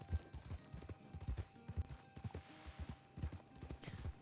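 Rhythmic clip-clop of horse hooves in the Red Dead Redemption roleplay game RedM, steady repeated strikes at a walking pace, fairly close and clear throughout.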